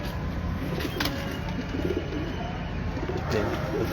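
Breeder pigeons on a Lahore rooftop coo in soft, low repeated calls under steady outdoor background noise, with faint voices talking in the distance.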